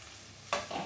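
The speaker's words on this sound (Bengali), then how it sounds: "এই কেটে রাখা টমেটো আর এই কড়াইশুঁটিটা কড়াইতে দিয়ে দিচ্ছি" Chopped tomatoes and frozen green peas hit hot oil in a wok, breaking into a sudden loud sizzle midway that keeps crackling close by, with no talking.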